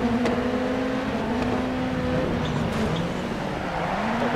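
A Ford Focus rallycross car's engine in the racing game Dirt Rally drones steadily and close, its pitch shifting as the car changes gear and speed. No one talks.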